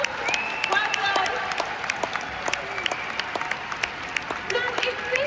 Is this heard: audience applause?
yes